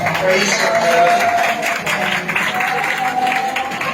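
A church congregation applauds loudly at a Palm Sunday service. The clapping is a dense, steady wash that lasts for several seconds at full strength without easing.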